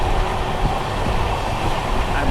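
Gurumukhi Superfast Express running at high speed through Saktigarh station between Jasidih and Kolkata, a loud continuous rumble and rushing roar with wind noise, steady throughout.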